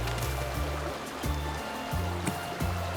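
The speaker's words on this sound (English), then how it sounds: "I am getting a little bit tired of listening to all this splashing of water." Waterfall in the video game Vintage Story, a steady loud rush of splashing water with a rhythmic rolling pulse that repeats every half second or so, heard alone.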